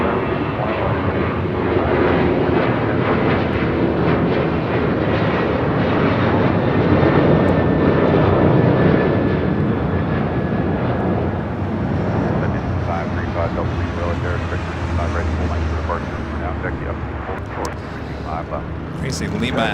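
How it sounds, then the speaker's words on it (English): A Southwest Airlines Boeing 737-800 takes off at LAX, a loud, sustained roar of jet engines that swells and then slowly fades, with a voice talking over it. "Next takeoff is Southwest Airlines Flight 2050 heading to Dallas Love Field in a"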